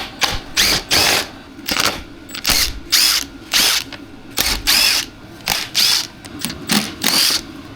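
Small screws being backed out on a KTM 390 Adventure R, giving a string of short, loud, whirring bursts from a powered screwdriver, about a dozen in quick succession with brief clicking pauses between them, close by and with no talking.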